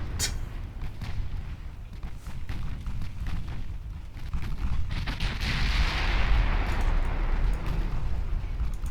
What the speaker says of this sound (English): super heavy tube powder explosives causes a lot of damage very fast